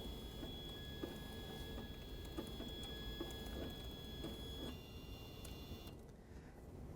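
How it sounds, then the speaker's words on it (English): A Brady i7500 industrial label printer initializes after its print head is closed, giving soft steady ticking and faint mechanical whirring with thin high tones, quiet and continuous for several seconds before settling. "you'll notice the printer is going through an initialization."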